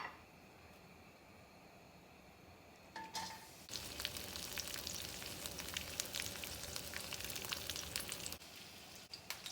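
Diced bacon sizzles and crackles in a pan on a high stovetop heat, a quiet lead-in giving way to a steady, dense frying hiss with scattered pops that holds until near the end.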